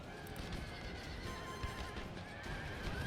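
Cavalry horses neigh and whinny amid the clatter of hooves in an Empire: Total War battle, a dense, continuous din of fighting and galloping with no speech on top.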